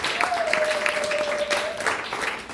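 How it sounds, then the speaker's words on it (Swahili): A church congregation at Potter's Church claps through a book-review gathering, steady, dense applause lasting a few seconds with a sustained held tone running beneath it. "Chapie Mungu makofi mengine mazuri."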